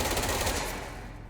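Rapid automatic fire from a submachine gun in the video game Control, a fast continuous burst that rattles loudly for the first half-second, then a fading tail of echo.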